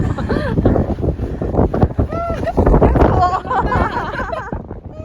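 Strong wind buffets a microphone outdoors during a summer outing with friends, a heavy rumbling roar that rises and falls. Several people talk and laugh over it throughout.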